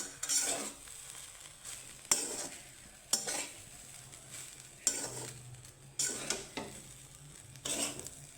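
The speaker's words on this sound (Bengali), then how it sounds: "নাড়িয়ে চাড়িয়ে নেব" Gondhoraj soya rice stirred with a spatula in a frying pan with ghee: a series of scraping strokes roughly every second over a soft, steady sizzle, close up with no voices.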